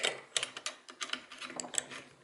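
Wrench ratcheting on actuator kit bolts: a quick run of small, close metallic clicks and ticks, fairly quiet, no voices.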